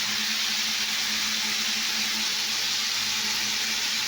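Fish frying in a pan while being stirred, giving a steady, broad sizzling hiss with no talking.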